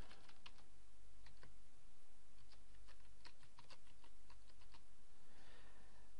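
Rapid keystrokes on a computer keyboard while a username and password are entered, a quick irregular run of clicks with short pauses, close and steady over low room hum.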